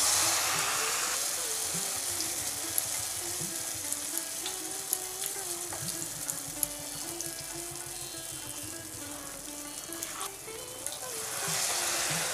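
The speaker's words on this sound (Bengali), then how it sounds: "এবার ব্যাটারের মধ্যে ডিমগুলো দিয়ে কড়াতে দিয়ে দেব।" Eggs coated in a flour batter fry in hot oil in a wok-style pan, giving a loud, steady, close sizzle with occasional pops that runs throughout, faint voice in the background.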